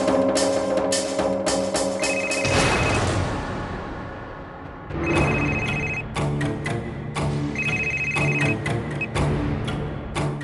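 A telephone rings on an outgoing call, with repeated electronic ring bursts separated by short gaps over a dull background rumble. No one speaks.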